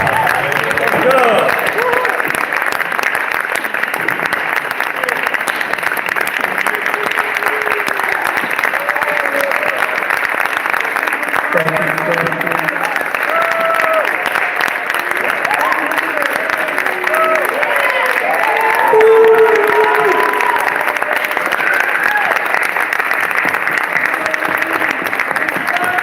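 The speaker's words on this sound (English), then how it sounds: "Give yourselves a round of applause." Concert audience at an armory music session clapping and cheering loudly and continuously, a dense sustained applause with a brief spoken remark near the start and crowd voices mixed in.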